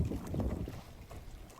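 A boat's engine drones low and rumbling on water in the rain, mixed with gusty wind buffeting the microphone, steady and fairly faint, with no speech.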